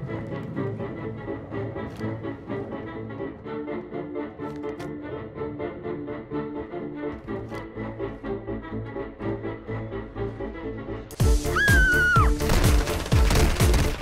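Gunfight in Warzone 2, with rapid automatic fire and bursts of shots running steadily under a tonal music bed, then a sharper, louder stretch near the end.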